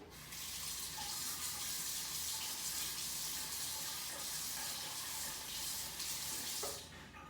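Tap water runs steadily into a sink, rinsing a meter, a continuous splashing rush that cuts off near the end.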